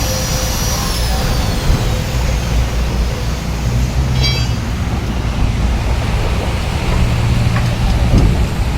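Steady rain pours outdoors while people keep working, a broad continuous hiss with low rumbling underneath and a few faint clatters near the end, no voices.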